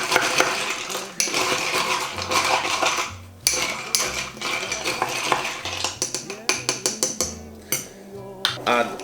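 A spoon stirs a mojito packed with ice in a glass, giving a busy run of clinking, rattling knocks of ice and metal against glass, close and loud throughout.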